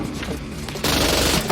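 Gunfire sound effects from the action film Ballistic: Ecks vs. Sever, a dense burst of shots that swells loud and steady in the second half after a quieter, rougher opening.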